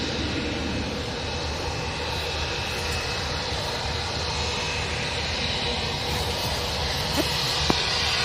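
A British Airways Airbus A321 jet at Manchester Airport gives off a steady, broad engine roar that holds at an even level throughout, with a couple of sharp clicks near the end.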